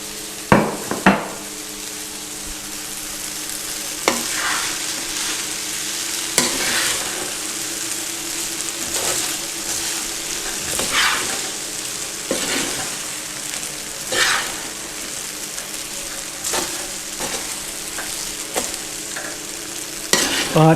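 Chicken stir-fried in a pan for chow mein: a continuous crackling sizzle with repeated sharp clanks and scrapes of a utensil against the pan at irregular intervals, close and clear, no talking.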